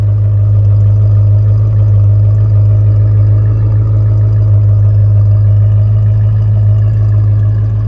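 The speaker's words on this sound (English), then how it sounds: "So it revs, it doesn't cut out to anything" A 1977 Ford Fairlane ZH V8 engine runs steadily with a deep, continuous exhaust rumble through its original exhaust, close and loud, holding an even idle without breaks or sputtering.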